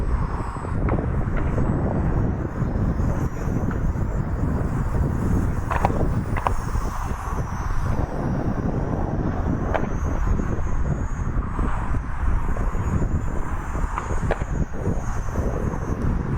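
Rage RC Focke-Wulf FW-190 model airplane flying on a windy maiden flight, its motor buzz partly buried under heavy, constant wind buffeting on the microphone.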